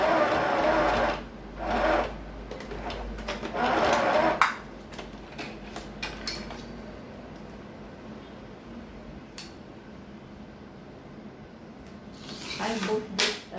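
A sewing machine stitches an elastic band onto the hipline of underwear, with a few short bursts of fast stitching early on followed by quieter handling and rustling, close and moderately faint.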